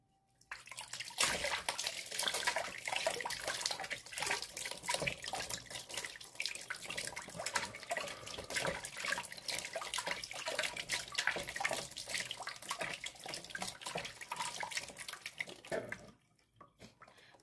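Lukewarm water runs steadily from a tap for washing, a continuous close splashing stream lasting about fifteen seconds before stopping.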